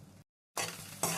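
Onions hit a pan of frying garlic for a ridge gourd and egg curry and are stirred, with a brief sizzle, a short silent gap, then a louder burst of frying and scraping.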